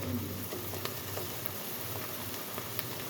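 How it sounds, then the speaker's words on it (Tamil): Drumstick leaf greens simmer in a pan with steady bubbling and sizzling, faint soft ticks and pops throughout, close by and continuous. "இப்போ நல்லா கொதிக்குது"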